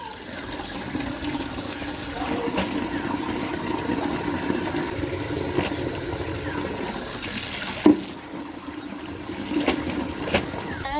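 Water runs steadily from a tap while grapes are washed, a continuous splashing hiss with a brief clatter partway through and faint voices in the background.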